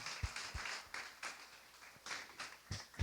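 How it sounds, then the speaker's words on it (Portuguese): A church congregation applauds an artist's drawing, giving scattered, fairly faint claps with uneven rhythm and a few sharper hits over a roomy background. "Uma salva de palmas para a Dani, gente, que ela fez esse desenho aqui"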